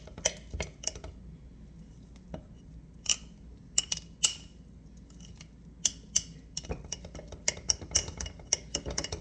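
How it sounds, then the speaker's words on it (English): A spoon stirs a flour-and-water sourdough starter inside a jar, giving a run of sharp, scattered clinks and taps against the glass over a soft background, irregular in rhythm and fairly close. "You just give it a good stir."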